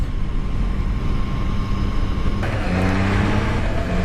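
A 2023 Triumph Trident 660 motorcycle under way, its steady engine drone and wind noise shifting abruptly in tone partway through as a gear change takes hold, then pulling on at a new pitch; no talk.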